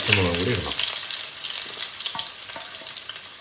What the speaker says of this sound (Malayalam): ഈ സവാള അരിഞ്ഞതും പച്ചമുളകും കൂടി ഇടണം.